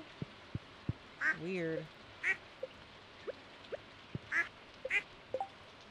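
Ducks quack in short, spaced calls on a Stardew Valley farm, several distinct quacks over soft ticking game sounds, with a brief spoken word among them.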